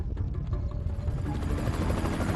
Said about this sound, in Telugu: ఓకే హెలికాప్టర్ అయితే వచ్చింది.